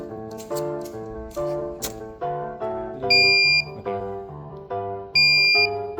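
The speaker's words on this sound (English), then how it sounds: "when it detects a fire, the buzzer should go off" A loud restaurant fire alarm beeps in repeated bursts, with a steady high-pitched tone cutting in twice over the pulsing buzzer.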